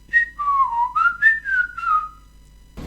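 A single person whistles a short, bright, cheerful tune up close, the notes sliding and bouncing, ending with a brief rustle.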